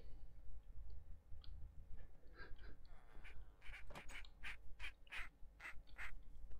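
A quick run of bright repeated quacks, about a dozen in rhythmic succession, fairly faint over a low background hum.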